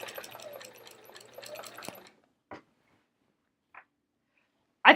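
A sewing machine stitches around the edge of an hourglass-block quilt, running in a busy whirring stretch for about two seconds, then falling to a few isolated clicks and knocks with quiet in between.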